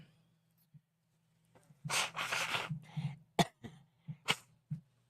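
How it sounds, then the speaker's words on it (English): A noisy nose blow with a couple of bursts, followed by sniffs and short snorts, close up with a low hum behind. "Don't blow your nose on camera"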